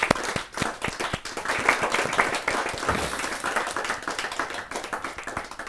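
Listeners at a Hindi kavi sammelan poetry gathering clap loudly to welcome a poet. Sharp, close handclaps ring out over a busy crowd of applause that stays strong the whole time.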